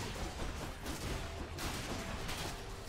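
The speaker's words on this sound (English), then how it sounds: "the explosions are pretty great" Explosions in the video game Hades, a dense, continuous barrage of broadband blasts and crackling bursts, fairly faint and steady throughout with no speech.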